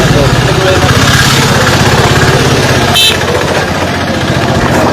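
The collector's motorbike runs in a steady, loud, rough idle close by, its throbbing pulse continuous throughout, with a brief sharp knock near the middle; crowd chatter mixes underneath.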